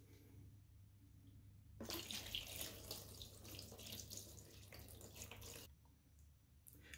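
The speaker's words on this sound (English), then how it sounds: "now let's slowly add water into the tray" Water pours steadily into a tray during a flat tyre repair on a NIU KQi2 Pro tubeless scooter wheel, a continuous close splashing stream lasting a few seconds before stopping, set against a low background hum.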